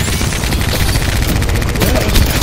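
Loud, dense automatic gunfire in Apex Legends, rapid overlapping shots rattling continuously at close range for a couple of seconds.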